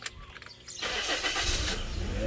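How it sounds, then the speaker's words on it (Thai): A 2011 automatic car with a newly fitted 1.8-litre engine starts: a short cranking burst, then the engine catches and settles into a steady, fairly close idle. "เครื่องดีนะครับสตาร์ทก่อนนะฮะ"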